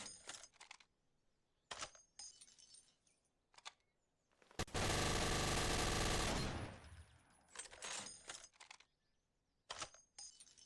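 A rapid-firing video game gun unleashing a sustained, loud, dense burst of shots for about two seconds, surrounded by short clicky metallic clatters and brief shot bursts.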